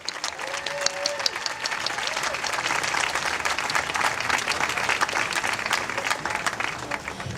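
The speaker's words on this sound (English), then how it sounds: "Please, a big round of applause to hear their message today" Crowd applause at an outdoor Lights for Liberty rally at the Vancouver Art Gallery: sustained, even clapping that fills the whole stretch, with a brief whistle-like tone near the start.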